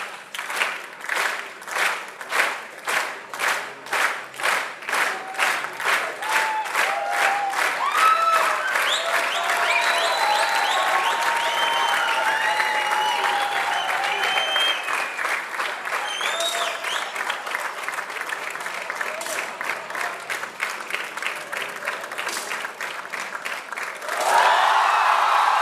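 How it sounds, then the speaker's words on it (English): A large crowd at a 10m air rifle shooting world cup in Bhopal breaks into sustained applause and cheering, starting as rhythmic clapping and swelling into dense, continuous clapping with shouts for over twenty seconds. "Strong cheers from the crowd"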